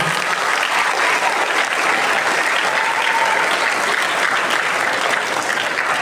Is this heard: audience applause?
yes